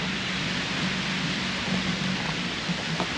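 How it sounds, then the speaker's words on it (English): Heavy rain pours down at a beach, a dense, steady hiss of drops that stays at the same loud level throughout with no voices. "It's raining quite heavily."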